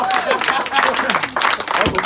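An audience at a motivational speaking event breaks into applause, a busy spread of clapping mixed with voices over two seconds.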